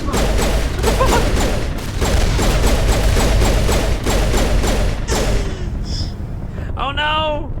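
Mass Effect battle with rapid, dense bursts of gunfire and explosions pounding almost without pause, loud and close, ending in a few whooshing, warbling energy effects.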